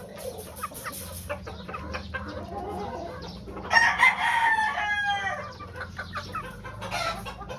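A pure white Kelso hen clucks near a rooster, with a loud crow rising in the middle and scattered clucks and fowl calls before and after, over a steady low hum.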